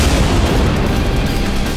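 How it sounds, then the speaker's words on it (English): Gunshot effects drenched in reverb roll together into a dense, booming wash that holds loud and unbroken throughout. "Need a little reverb on those gunshots, Sam?"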